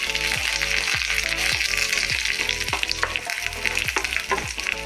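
Curry leaves and urad dal fry in hot oil in a pan, making a dense, loud, continuous sizzle close up, with a rhythmic series of scraping stirs sounding about twice a second, and no talking.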